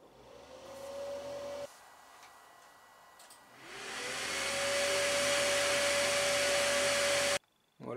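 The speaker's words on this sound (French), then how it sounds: "si je viens appuyer sur le ventilateur, ça va l'activer" The enclosure fan of an Ortur Laser Master 3 laser engraver whirs on with a steady hum, drops out, then spins up again into a loud, constant airy roar before cutting off abruptly.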